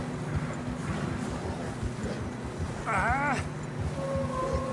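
Horses plod steadily through fresh snow in the video game Red Dead Redemption 2, with soft, muffled hoofbeats, joined by a brief whinny, while voices talk quietly in the background.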